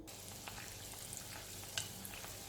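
Oil sizzles and crackles steadily in a paniyaram pan as Chettinad kandarappam, a traditional sweet batter, fries, with a soft, even hiss and occasional pops.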